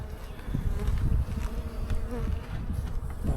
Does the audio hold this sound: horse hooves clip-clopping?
no